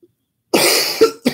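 A harsh, close cough followed by a shorter second cough, with silence before them.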